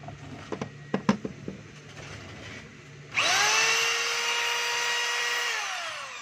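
A DeWalt D25032 rotary hammer on test: a few light knocks and taps, then the tool starts and runs loud and steady with a high, whining motor hum through to the end.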